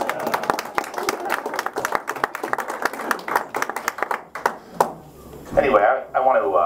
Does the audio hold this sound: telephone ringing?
no